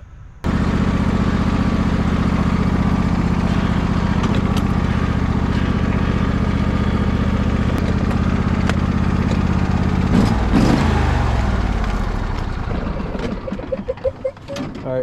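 John Deere lawn tractor engine running with the muffler removed, a loud, close, steady rough drone that sputters and winds down near the end, with no talking.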